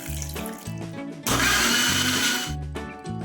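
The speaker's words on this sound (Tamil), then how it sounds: "கேரட்டை நல்லா மிக்சியில் போட்டு அரைக்கணும்" A mixer grinder blends carrots in short bursts, its motor whining with a rising pitch at each start, then runs in one longer loud, rough grinding stretch before dropping back to brief pulses.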